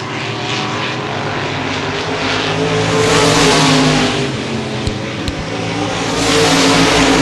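Modified race cars roar around the Baer Field Speedway oval during the Gold Cup 50, a loud continuous engine drone that swells as the pack passes, with no voices.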